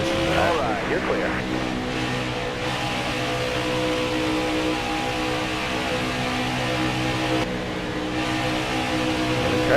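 Race cars in NASCAR Heat 4 at Michigan roar steadily around the track with a constant loud engine drone, the pitch shifting slightly as another car draws alongside and passes.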